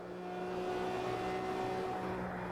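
A car engine at full throttle on the Nürburgring holds a steady, sustained drone with a constant pitch, heard from inside the car, fairly quiet and without any voices.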